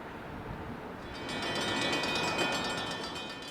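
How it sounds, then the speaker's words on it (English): An IHB freight job hauling loaded molten-steel cars from the mill, led by NS GP38-2 5333, rolls past as a steady broadband rumble that swells in the middle, with faint high squealing tones of wheels. "an IHB 126 job delivering another loaded train from the mill"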